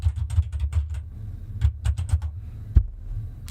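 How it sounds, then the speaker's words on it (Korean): Irregular clicks from a noisy computer keyboard being typed on during a Korean stock market broadcast, picked up close by the microphone over a low steady hum. "마이크가 키보드 소리를 먹어요"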